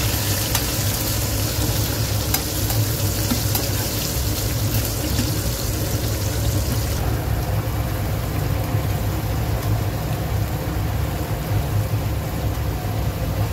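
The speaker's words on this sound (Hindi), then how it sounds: "इसको तब तक फ्राई करना है जब तक कि इसका ये साइड में ऑयल अच्छे से निकल आएगा" Spices frying in oil while being stirred for a spicy capsicum chutney, with bottle gourd also cooking: a continuous dense sizzle under a steady low hum, softening partway through, no talking.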